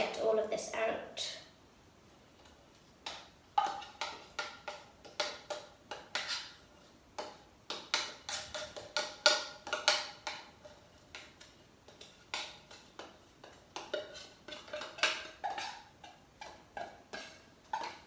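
A metal spoon scrapes and taps inside a tin of condensed milk while making honeycomb ice cream, giving a string of short, irregular clinks and scrapes close up, steady through the clip.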